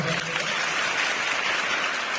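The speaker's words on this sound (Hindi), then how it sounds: "हम एक बार जोरदार ताली से स्वागत करेंगे।" Schoolgirls applaud loudly, a dense, sustained wash of clapping from a crowd with no break.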